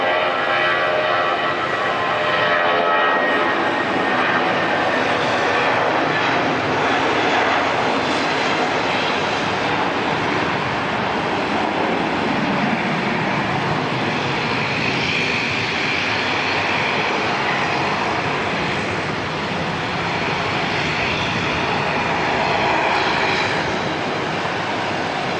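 Airliner NZ445 bound for Wellington taking off from Auckland Airport, a loud steady jet engine roar with broad hiss that fills the whole stretch, heard alone without talk.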